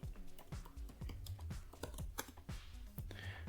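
Rapid keystrokes tap on a computer keyboard as login credentials are entered, a dense stream of close, crisp clicks with uneven rhythm and no talking.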